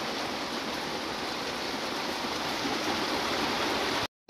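Heavy rain pours steadily outdoors, a dense, even hiss of falling water at constant loudness that cuts out abruptly near the end.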